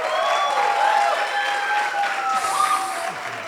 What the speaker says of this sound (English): ladies and gentlemen, a big round of applause for Karan